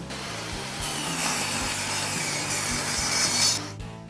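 A saw rips wood pieces meant for desk runners. It gives a loud, steady cutting roar for about three and a half seconds, then quickly dies away.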